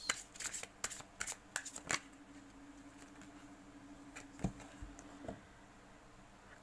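Tarot cards are shuffled by hand close up, producing quick papery riffles and flicks in clustered bursts at first, then sparser slaps against a quiet background.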